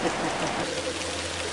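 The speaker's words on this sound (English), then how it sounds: "Fishing in the rain, nothing like it." Rain falls steadily at a creek during a fishing trip, making a continuous, close, broadband hiss of drops with no talking.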